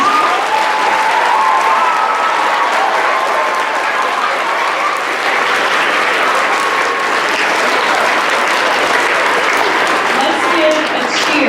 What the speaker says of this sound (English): Let's give a special round of applause to the narrators who work so hard to practice their parts and memorize.